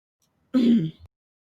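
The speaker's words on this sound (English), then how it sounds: "I just coughed a bunch." A single short throat clearing, a gruff, voiced rasp lasting about half a second, close and clear against silence.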